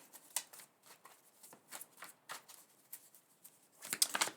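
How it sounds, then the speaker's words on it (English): Quick, papery riffles of a deck of tarot cards being shuffled, several bursts in irregular rhythm, close by on a hard desk surface. "So, I'll use this deck actually. I'm just gonna shuffle it a bit."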